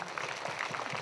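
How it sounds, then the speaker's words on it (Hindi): Congregation clapping at a Christian prayer meeting in India, a short burst of rhythmic, moderately loud applause from a crowd. "जोरदार ताली दीजिए परमेश्वर के लिए।"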